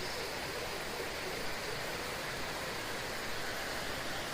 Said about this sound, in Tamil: தண்ணியோட சத்தம் கேட்குதுங்களா